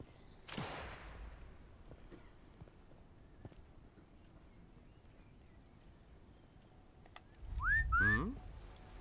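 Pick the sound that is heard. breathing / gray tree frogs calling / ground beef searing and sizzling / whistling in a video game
whistling in a video game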